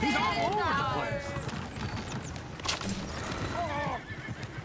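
Horses in the video game Red Dead Redemption 2 whinny loudly twice, with hoof clip-clops and game noise underneath and a voice speaking over part of it.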